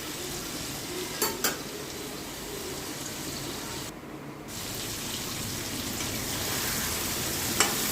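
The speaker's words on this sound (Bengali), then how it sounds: "আলুটা দিয়ে একটু নেড়ে চেড়ে এর মধ্যে আমি এবার বাকি মশলাগুলো একসাথে দিয়ে দেবো।" Potatoes frying with spices in a pan while being stirred, giving a steady close sizzle broken by a few sharp scraping clinks of the spoon against the pan and one brief lull.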